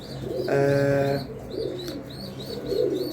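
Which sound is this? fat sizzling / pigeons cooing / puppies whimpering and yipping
pigeons cooing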